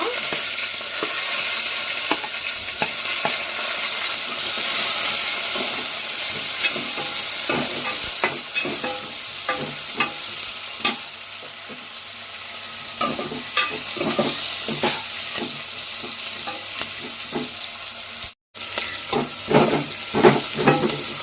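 Sliced onions fry and sizzle in a hot tempering of spices for a drumstick dal, with a steady loud hiss broken by frequent scraping stirs of a ladle against the pan, alone with no talk.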